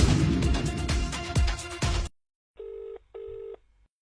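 A phone rings unanswered: a few seconds of loud, busy sound with sharp beeps, then two clean, evenly spaced ring tones alone in near silence.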